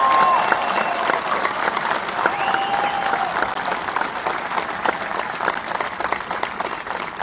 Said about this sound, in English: let's give the graduating class of 2020 one more round of applause.